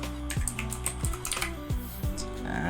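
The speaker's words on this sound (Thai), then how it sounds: "จากนั้นก็พิมพ์ข้อความที่เราต้องการ" Close, quiet clicking of computer keyboard keys in an irregular tapping rhythm, with no talk alongside.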